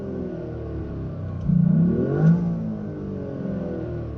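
Toyota GR Yaris engine revving, heard from outside the car at a drag race, a steady mid-pitched drone that swells into a louder rev and falls back, ending in a fading hum.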